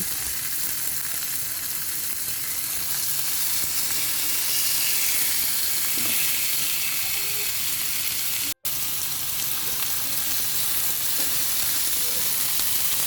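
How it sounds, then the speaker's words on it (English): Steady, loud sizzling from pork chops frying in a hot grill pan, a continuous crackling hiss with faint clinks partway through. "you want to hear that sizzle"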